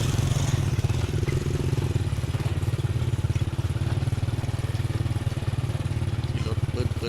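A motorcycle engine putters steadily close by as it is ridden slowly behind cattle on a rural track, a low rhythmic thrum throughout with a voice talking over it.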